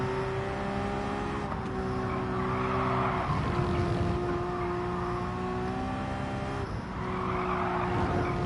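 A car drifts in Gran Turismo 7 with a steady engine drone and long, sustained tire squeal, the pitch shifting as the car slides through corners, loud and close with no talking.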